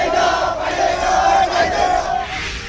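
A large protest crowd outside Nepal's presidential palace shouts slogans in unison, a dense, loud, sustained roar of many voices rising and falling in rhythm.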